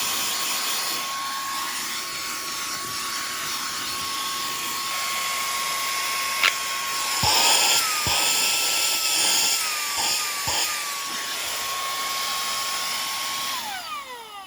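Koonie 77000RPM cordless air duster running on its high setting, a loud steady high-pitched whine with rushing air, close and continuous, shifting slightly in pitch midway as it sweeps across surfaces.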